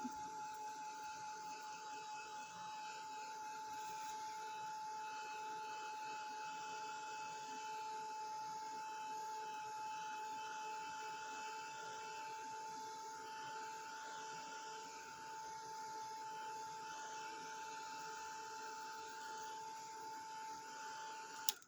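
A heat gun blows steadily on a craft packaging tag, a constant close-up whooshing hiss with a faint whine that holds unbroken at even loudness throughout.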